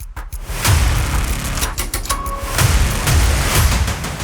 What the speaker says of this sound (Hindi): राजधानी में गोलियों के 9 राउंड